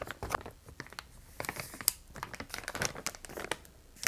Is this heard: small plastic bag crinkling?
yes